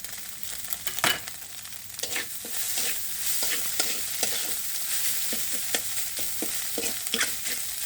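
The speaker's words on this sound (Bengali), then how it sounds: "যে মাংসগুলো কেটে রেখেছিলাম রান্না করা সেটা দিয়ে দিচ্ছি।" Cooked meat pieces added to noodles frying in a pan and stirred through, with a steady sizzle and repeated scraping clicks of a spatula, close and fairly quiet.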